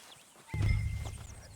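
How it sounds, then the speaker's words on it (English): A horse in the Red Dead Redemption 2 video game gives a low snort and whinny, a sudden close burst that swells and then fades over about a second. "Okay, but I do kind of like this horse."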